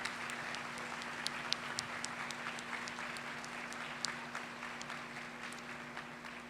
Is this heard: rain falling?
no